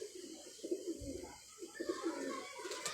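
Ferozpuri pigeons coo in a repeated, rolling series of low burbling calls, fairly close, with a steady background hiss and no talking.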